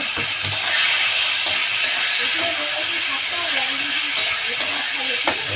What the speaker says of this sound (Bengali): কষিয়ে নিচ্ছে বাবা ভালোই ঝাঁজ হচ্ছে